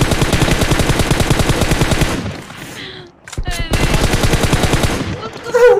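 Rapid automatic gunfire from a shooting video game during a chaotic match, loud bursts of sustained fire that pause briefly near the middle, then resume, with a voice speaking faintly underneath.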